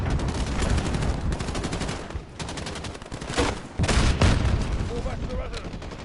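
Rapid gunfire with heavier grenade launcher blasts in a Call of Duty campaign battle, bursts of shots rattling close and loud, a couple of stronger booms punching through midway, with voices underneath.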